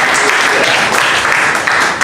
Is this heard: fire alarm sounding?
no